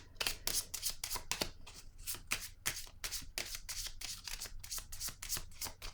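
Tarot cards being shuffled before a new card is drawn, with a close, rapid riffling that comes in repeated bursts of crisp flutter and soft slaps, heard alone without talk.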